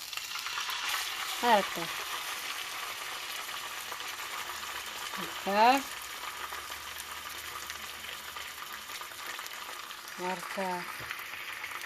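Salmon fish fries in a pan with a steady, loud sizzle throughout, while a voice speaks briefly three times over it.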